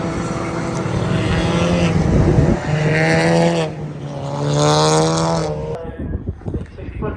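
Race cars rolling through a green flag lap drone loud and close, their engines swelling and fading in layered harmonic tones as they pass before the start.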